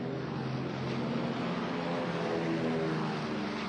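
WWII Marine planes take off from Midway island, their propeller engines making a steady, dense roar that fills the scene at moderate distance without any pause or voices.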